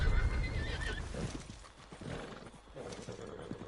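A horse in the video game Red Dead Online neighs and whinnies loudly, with hoof clip-clops and game ambience continuing beneath as the whinny fades.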